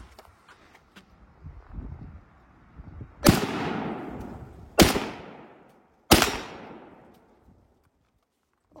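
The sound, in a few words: gunshots fired from a rifle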